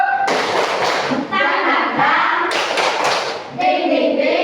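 A group of people claps a rhythmic spirit clap in bursts, with loud hand claps and a voice talking over them in places, close and lively.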